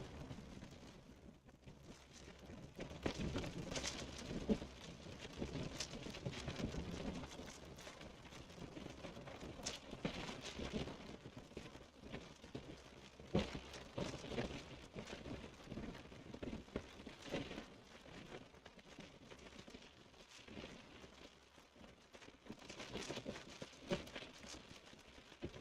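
Hail hammers a vehicle during a Texas storm chase, a dense, continuous clatter of hard impacts on the body with louder bursts, heard from inside over a low road rumble.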